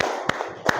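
Children in a classroom clap the 'tepuk ikan' chant rhythm: two sharp, close claps spaced a little under half a second apart, with a faint room murmur between them.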